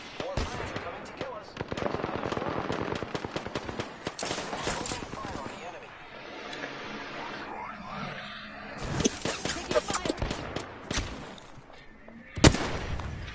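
Gunfire in Apex Legends crackles in rapid bursts and scattered single shots, loud and close, pausing briefly before resuming, with players talking over the fighting.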